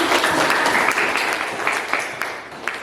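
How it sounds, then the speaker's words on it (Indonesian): Students in a classroom applaud after a group presentation, a burst of clapping from many hands that carries on steadily for a few seconds with no talk. "Baik, tepuk tangan."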